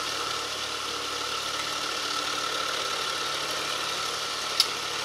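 A Stefan Marinov motor generator running on about 13 volts, giving a steady, even whirring hum with a faint constant whine, plus one brief click near the end.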